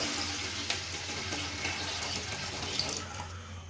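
Water runs steadily into a cooking pot of dal, about 1.5 kilograms poured over roughly three quarters of a kilo of lentils, a soft continuous splashing and gurgling.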